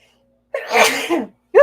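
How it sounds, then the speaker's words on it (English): A single loud, close sneeze breaks the quiet, followed by the start of another vocal sound right after. "I'm about ready to sneeze"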